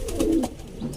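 A racing pigeon gives a brief, low, throaty coo close by, with a softer second murmur just after.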